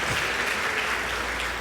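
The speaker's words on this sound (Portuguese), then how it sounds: "Dá uma salva de palmas ao Senhor" A church service congregation claps for the Lord, steady dense applause throughout, filling the room at moderate volume with no talk over it.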